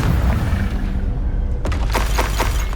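Confringo blasting spell in Hogwarts Legacy: a loud, booming blast with a rumbling low end, followed by a few sharp cracks and shattering bursts near its close.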